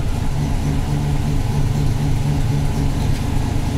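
The engine of a Buick Grand National runs at a steady idle, a continuous low rumble with an even hum and no talking.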